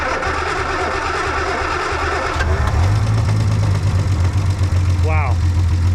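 The engine of a Triumph TR250 that had been sitting for 40 years cranks and then catches, settling into a steady, loud idle. Voices are heard near the start, and a brief high whine comes in toward the end.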